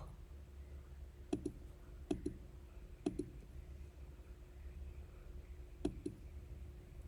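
Computer keyboard keys tapped in a few quiet, separate clicks, some in quick pairs, against a faint steady background hum.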